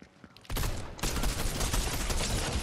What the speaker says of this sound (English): I just tried to shoot an automatic weapon, but it's a burst.